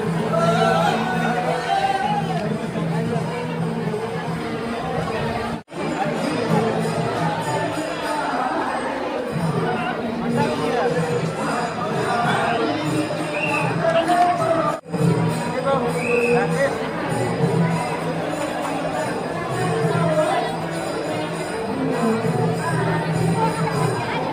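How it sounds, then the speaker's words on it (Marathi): Busy hubbub of a large crowd at the Swami Samarth temple in Akkalkot, many voices murmuring and talking at once in a steady, close wash of babble, with two brief sharp dropouts along the way. "गर्दी भरपूर आहे"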